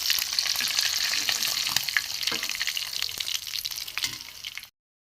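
Bata fish fry in hot oil with a dense, bright crackling sizzle and a few soft clicks from the pan, running steadily and then cutting off abruptly at the end, without any voices.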